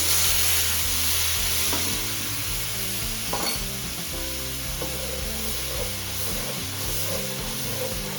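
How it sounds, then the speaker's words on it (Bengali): Loud, crackling sizzle of a katla fish marinade frying in hot oil in a frying pan, close by, with stirring and scraping sounds breaking through the steady hiss. "এটা গরম ফ্রাই প্যানে যে তেলটা আছে তার মধ্যে দিয়ে দেবো"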